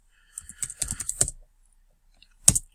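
Computer keyboard keys tapped in a quick close burst of about a dozen crisp clicks, then a pause and a final pair of keystrokes, with no talking.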